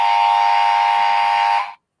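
A loud, steady electronic buzzer sound effect, one unbroken harsh tone held for nearly two seconds before cutting off abruptly.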